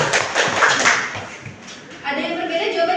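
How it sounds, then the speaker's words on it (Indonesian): A classroom of students claps for a classmate named Tias, a brief burst of scattered applause rising and fading over a couple of seconds with a voice speaking near the end. "Tepuk tangan dulu untuk Tias."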